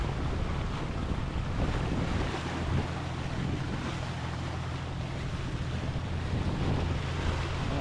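Steady wind rushes across a moving boat, with a constant broadband roar and low rumble of water and engine beneath, no voices.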